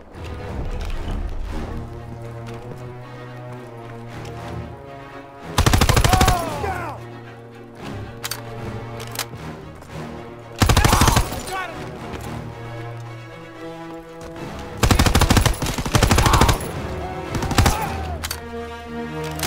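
Gunfire in the Call of Duty: WWII video game rings out in several sharp, loud bursts of rapid shots spread across the scene, set against steady game music and background noise.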